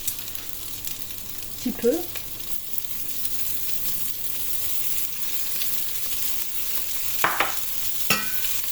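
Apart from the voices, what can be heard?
onion frying in a pan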